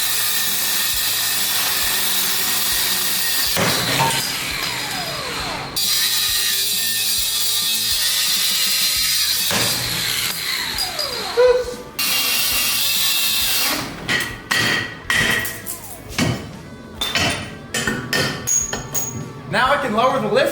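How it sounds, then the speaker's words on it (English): Rusty U-bolts holding an axle to leaf springs on a Mustang being cut off with power tools, with loud grinding and cutting bursts, hissing, sharp metallic clanks and intermittent ratcheting, starting and stopping repeatedly. "Now I'm going to cut off the U-bolts that hold the axle to the leaf springs."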